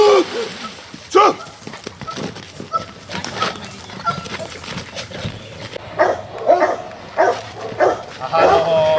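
A dog barking during bite work training at a club session in Zlonice, repeated loud barks close by in bursts. People shout commands and talk among the barking.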